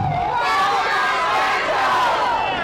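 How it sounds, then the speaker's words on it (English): A large protest crowd at an anti-Monsanto march in New York yells together in one sustained, loud roar of massed voices, with shouting and cheering held steady throughout. "What would it sound like if all these earthlings at the same time screamed,"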